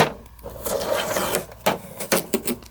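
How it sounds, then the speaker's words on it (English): Packing tape is peeled off a brand-new free printer, giving close, loud tearing and ripping strips in several uneven bursts. "Take this tape off."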